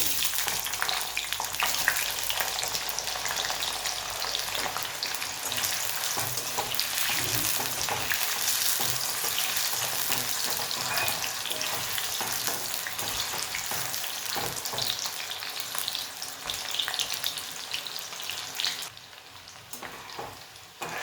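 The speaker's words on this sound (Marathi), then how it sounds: "यात आता वांगी फ्राय करून घेऊया" Brinjal slices fry in a pan of hot oil with a dense, steady sizzle that crackles without pause for about twenty seconds, loud and close, easing slightly near the end.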